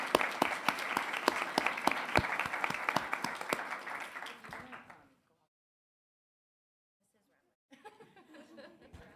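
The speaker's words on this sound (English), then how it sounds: "If you turn around and take your applause from your crowd here." Audience at a school board meeting applauds students with dense, steady clapping for about five seconds that fades out, then silence, then a few quieter claps and murmurs.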